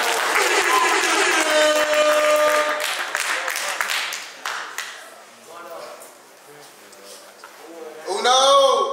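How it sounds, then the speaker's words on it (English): A crowd at a battle rap event claps loudly and steadily, the applause thinning and fading over several seconds before a voice and noise return near the end. "Clap it up, DaUno"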